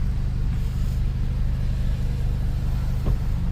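A car drives along with a constant loud engine rumble and road noise from inside the cabin, pulling steadily with a brief bump near the end and no talk.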